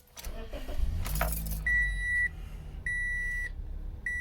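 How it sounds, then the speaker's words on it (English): A 2007 Toyota Matrix engine cranks and catches after a brief rattle of keys, then settles into a steady idle while a clear electronic chime beeps three times. "So now we can just try and start the car."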